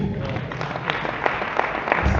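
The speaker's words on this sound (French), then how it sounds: "Est-ce qu'on peut applaudir?" Audience applause after a speech, a steady mass of clapping that stays fairly even and moderately loud for a couple of seconds, with a slight swell near the end.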